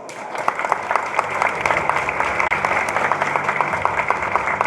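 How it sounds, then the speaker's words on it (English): Audience at an Asus ROG event during Computex 2017 gives a big round of applause, dense and sustained clapping from a large crowd that fills the whole stretch at steady loudness. "give them a big round of applause."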